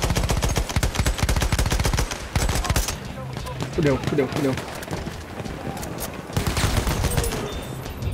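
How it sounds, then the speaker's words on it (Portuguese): Enemy machine gun fire in a Battlefield 1 Conquest match on PS4, loud rapid bursts of automatic shots at the start and again near the end, with someone shouting in alarm in between. "Metralhadora inimiga bem ali!"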